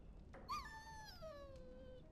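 A dog whimpers in Dragon Age: Origins, a single high, falling whine that starts sharply and trails off slowly over about two seconds, heard alone at close range.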